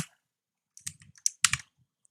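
A few keystrokes typed on a computer keyboard during a programming exercise, sparse clicks in two short bursts with pauses between, close and fairly quiet.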